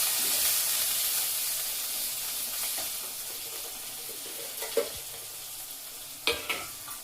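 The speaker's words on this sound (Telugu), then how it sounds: "కొత్తిమీర పుదీనా వేసిన తర్వాత అన్నం వేసి కలపాలి" Cooked rice stirred into a hot pan with coriander, mint and spiced potato for aloo rice: a steady, close scraping and sizzling texture, with a few sharp clinks of the spoon against the pan near the end.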